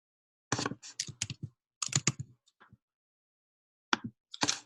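Bursts of typing on a computer keyboard, quick clustered key clicks in several runs separated by pauses, close and fairly clear with no talk.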